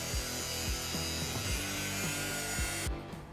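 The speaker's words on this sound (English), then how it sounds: "everything's nice and sanded to where we want it" Power sanding on a Lexus LX570 rock slider produces a continuous harsh grinding with a regular pulsing rhythm, close and loud, cutting off abruptly near the end.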